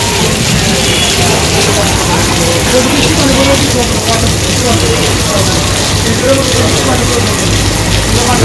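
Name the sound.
rain falling in Bangladeshi village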